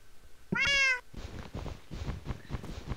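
A cat gives one short, clear meow, close and fairly loud, followed by softer rustling and movement noises.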